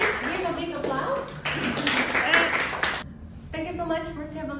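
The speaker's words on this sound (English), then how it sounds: "Please give a big applause." A classroom of students gives scattered clapping for a group after their presentation, light and brief, with voices mixed in before it fades and speech resumes.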